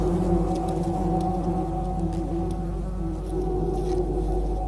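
A dense, droning buzz of a hornet and many bees hums steadily throughout, loud and close, with no pauses.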